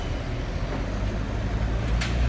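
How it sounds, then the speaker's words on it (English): Steady traffic rumble at a bus terminal in Guangzhou, China, taken in from a pedestrian bridge above: continuous low engine drone from buses and trucks with a brief hiss near the end, likely air brakes, no talk. "On a pedestrian bridge, over here, here's the bus terminal I'm heading for."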